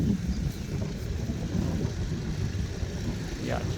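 Strong wind buffets the microphone outdoors by a large canal, a steady low rumbling roar with gusty surges throughout.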